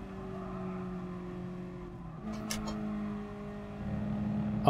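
A racing car's engine in Gran Turismo Sport climbs steadily in pitch under load, drops briefly as it shifts up into fourth gear, then revs up again, loud and close with faint tyre noise.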